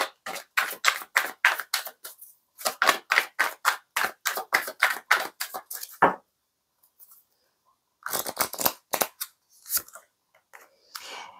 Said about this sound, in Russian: Тасуем карты, смотрим